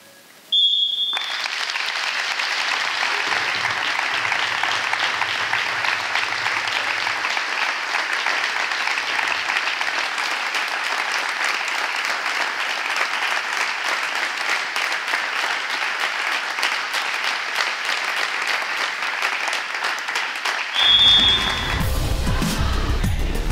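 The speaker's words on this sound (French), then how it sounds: "il va être proposé une minute d'applaudissements" Sustained applause from a volleyball crowd paying tribute during a minute of clapping at a French league match, dense and continuous for about twenty seconds, opened and closed by a short whistle blast, ending with a thud and movement.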